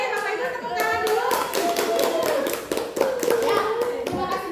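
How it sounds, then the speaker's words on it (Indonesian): Clapping from parents in a room during a school workshop, brisk hand claps layered with several voices talking and someone speaking, moderately loud and close. "Bapak Ibu tepuk tangan dulu"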